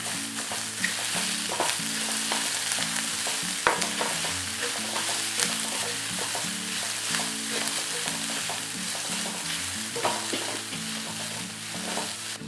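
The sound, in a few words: soya chunks and rice being stir-fried and mixed in pan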